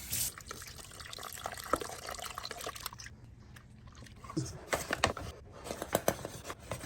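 Water trickles and splashes into a bowl of sourdough bread dough with active starter, a soft, uneven pour followed by scattered drips and light handling noises.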